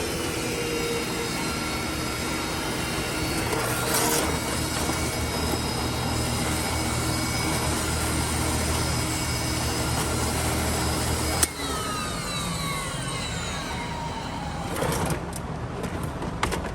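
A Sharp EC 14TXC commercial vacuum cleaner runs steadily with a loud, continuous motor drone and airflow hiss, its tone shifting partway through as suction changes, with no talk over it.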